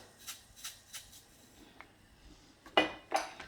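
A utensil scrapes and clinks against a deep pot while stirring soy sauce and sugar into tofu, a few scattered strokes, quiet, with sharper metallic knocks near the end.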